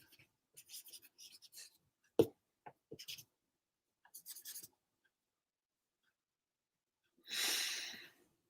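Colored pencil scratches across paper during coloring, short soft strokes in irregular bursts with pauses between, one sharper tap, then a longer rougher scrubbing stroke near the end.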